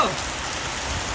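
Heavy rain whipped by wind, a steady dense roar of drops drumming on surfaces, loud and constant with no breaks.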